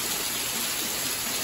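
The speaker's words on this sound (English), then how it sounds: "It's pouring right now." Heavy rain pouring down during a Gulf storm system moving into Louisiana, a dense continuous hiss of water, steady and loud with no gaps or voices.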